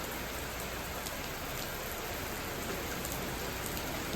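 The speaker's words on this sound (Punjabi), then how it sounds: "ਬਹੁਤ ਵਧੀਆ ਬਾਰਸ ਪੈ ਰਹੀ ਹੈ" Steady medium rain falls on open farm fields in Punjab, a dense, even hiss of drops hitting the ground that holds constant throughout with no talking.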